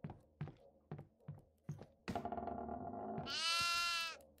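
Goat in the horror video game Devour, a series of short thumps and bumps followed by a loud, close, wavering bleat that holds for about a second.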